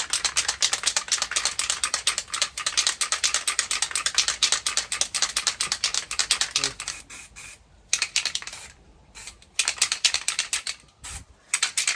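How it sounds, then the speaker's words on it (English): Granite Effect spray paint can shaken hard, its mixing ball rattling in fast rhythmic bursts with a few brief pauses between rounds of shaking. "So that is a Granite Effect spray paint available from any hardware store. Really good product. Needs a good shake."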